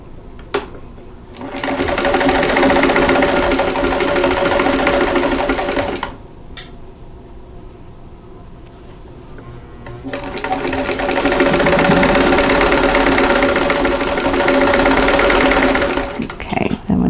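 A sewing machine stitches quilt block pieces together in two long steady runs of loud, close whirring, separated by a quieter pause with a faint motor hum.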